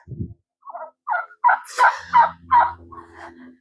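A short series of gobbling, clucking fowl calls, close and fairly loud, about eight bursts in quick succession with brief gaps between.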